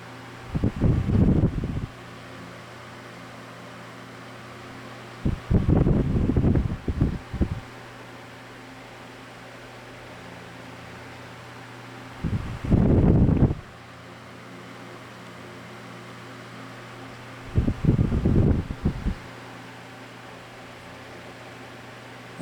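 A vintage 1940s Hunter Century 12-inch table fan runs with a steady whirring drone throughout, broken by a few short louder bursts of handling or switch noise.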